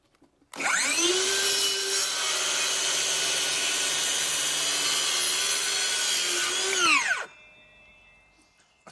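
DeWalt DCS570N cordless circular saw spinning up and ripping through wood in one continuous loud, whining cut of about seven seconds, then winding down quickly, heard close with no talk.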